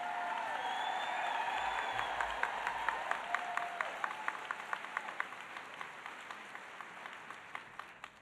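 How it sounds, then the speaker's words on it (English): Audience applause for a nurses' leader, broad steady clapping from a crowd that holds for several seconds, then thins into scattered claps as it fades toward the end. "Give her a big round of applause."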